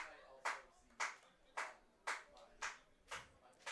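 Baseball crowd late in a game at a Barrie Baycats versus Brantford Red Sox ballpark, clapping in a steady rhythm of six sharp, distinct claps, fairly faint and a little distant, with no talk over them.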